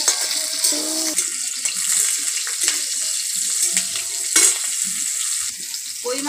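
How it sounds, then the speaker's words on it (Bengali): Green chillies and panch phoron fry in hot oil, producing a loud, bubbly, hissing sizzle that holds steady throughout with occasional stirring swells. "এবার কাঁচা লঙ্কাগুলো দিয়ে দিলাম, আর এই যে পাঁচ ফোড়নটা দিয়ে দিচ্ছি। আগে ভালো করে ভেজে নেব।"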